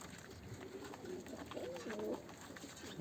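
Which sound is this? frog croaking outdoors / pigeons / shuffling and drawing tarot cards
pigeons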